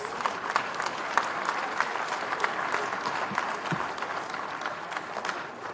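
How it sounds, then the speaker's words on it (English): An audience at a university convocation lecture gives a steady round of applause, many hands clapping evenly at moderate loudness throughout, with no talking over it. "Please let's give him a round of applause."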